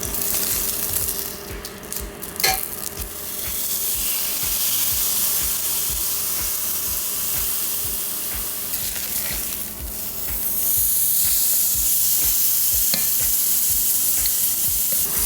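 Steak fat sizzling and spitting in a hot skillet, a steady loud frying hiss throughout with occasional pops and stirring scrapes, close and alone without talk.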